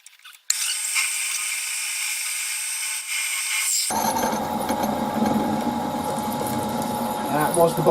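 Close ratcheting clicks from a wrench tightening a bolt, a busy mechanical chatter that runs steadily after a brief quiet start and deepens midway under continued metallic working noise.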